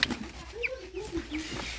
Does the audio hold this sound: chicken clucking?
yes